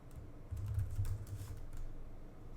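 Steady burst of computer keyboard typing while entering Objective-C code on a Mac, close and fairly quiet, a continuous run of soft key clicks with no talk.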